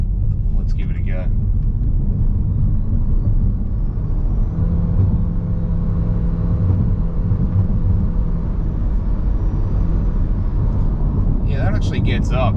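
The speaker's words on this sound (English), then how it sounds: "So what's the acceleration like from the Outlander? Let's give it a go." A Mitsubishi Outlander PHEV SUV with two electric motors plus a petrol engine accelerates, giving a constant loud low rumble and road roar from inside the cabin, with voices talking briefly at the start and end.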